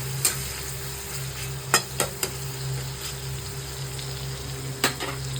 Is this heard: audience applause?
no